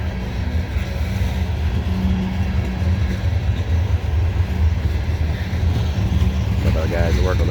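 The tail end of a heavy CSX coal train rolls past on the track, a steady low rumble of wheels and cars continuing throughout, with a short burst of talk near the end.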